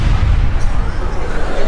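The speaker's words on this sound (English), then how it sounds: "triggering the most colossal explosion in history" A colossal explosion effect meant to represent the Big Bang: a loud, continuous low rumble and roar that fills the whole stretch without letting up.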